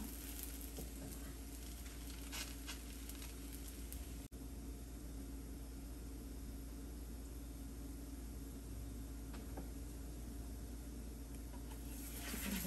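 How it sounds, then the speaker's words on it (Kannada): A mango and carrot paratha fries on a hot pan, giving a faint, steady sizzle that holds evenly throughout with a brief dip partway, heard alone without voices. "ಸೇಮ್ ಇದನ್ನು ಸೊ ಗೋಲ್ಡನ್ ಬ್ರೌನ್ ಬರೋ ತನಕ ಎರಡು ಸೈಡ್ ಫ್ರೈ ಮಾಡೋಣ"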